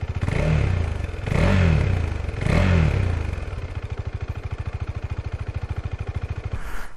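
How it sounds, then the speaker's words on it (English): A motorcycle engine fitted with a K&N air filter revs up three times in quick bursts, each swell rising and falling, then settles into a steady, loud, close idle with a rapid regular pulse. "I'll give it a few revs"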